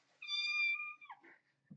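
A cat gives one clear, close meow, a drawn-out tonal cry lasting under a second, followed by a soft trailing sound and a faint rustle.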